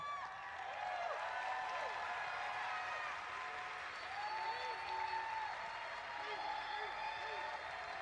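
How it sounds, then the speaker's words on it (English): Audience applause at the E3 2019 Bethesda press conference, a sustained, even roar of many hands in a large hall, heard faintly and at a distance beneath close voices talking over it. "That's a big applause."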